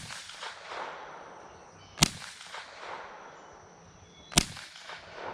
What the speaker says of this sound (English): I'm shooting all around it.